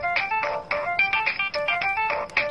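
A mobile phone rings with a repeating electronic melody of bright pulsing tones in quick bursts, clear and alone.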